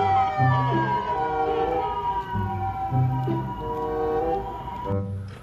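A toy ambulance plays a loud electronic siren with a repeating wail pattern, close and continuous, cycling several times over a few seconds.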